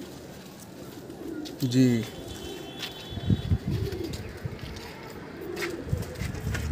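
Pigeons coo softly in a loft, a few low burbling calls rising now and then over steady background noise, with someone speaking briefly in between.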